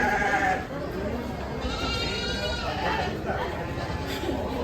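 Goats bleating amid a busy crowd at an outdoor livestock market in Zimatlán, Oaxaca, with steady chatter from many people throughout and the animal calls rising briefly over the noise.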